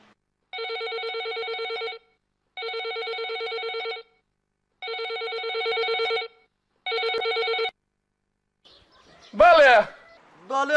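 Loud, close telephone ringing in four even bursts of electronic trilling with short pauses between them, then a voice speaks after the ringing stops.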